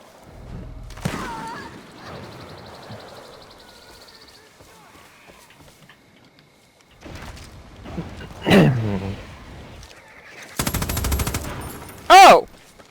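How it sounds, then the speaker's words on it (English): Gunfire in the game Far Cry New Dawn: scattered bursts of shots and sharp impacts between quieter stretches, ending in loud clustered blasts, with voices talking over parts of it. "I need to stop shooting at people."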